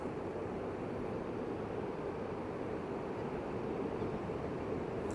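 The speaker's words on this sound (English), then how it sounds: "Listen to the ocean." Ocean waves washing ashore near a fisherman casting a rod, a soft, continuous surf wash at moderate distance, steady and low-level throughout with no talking.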